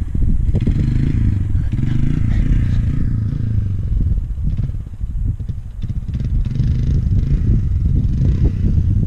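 A dirt bike engine revs and idles up close through a slow wheelie ride in the rain, a steady low rumble with clattering and flapping noises on top.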